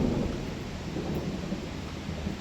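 A heavy thunderstorm with pouring rain, a steady loud wash of downpour with rumbling thunder blended throughout, no voices.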